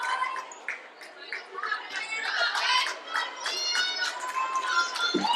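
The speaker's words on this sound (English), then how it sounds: "Lively crowd tonight." Lively crowd in a school gym at a girls' varsity basketball playoff game, chattering and cheering under sneaker squeaks and the noise of play, with announcers talking over it.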